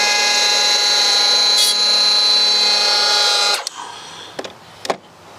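A Milwaukee electric planer shaves the edges of ground-level deck boards with a loud steady tonal whine, close by, then cuts off and leaves a few faint knocks and clatters.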